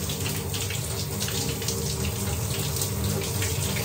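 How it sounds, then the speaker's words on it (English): Water from a running shower pours in a steady, loud, unbroken hiss that stays constant throughout with no voices. "There's nothing like a shower."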